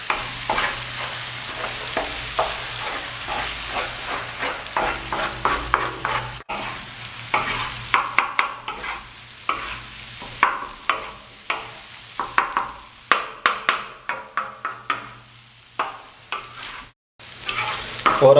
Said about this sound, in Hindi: अंडे डाल के आपने चम्मच हिलाते रहना